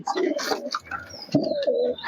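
Madras pigeons coo up close in a few soft, throaty, rolling phrases, with light bird chatter between them.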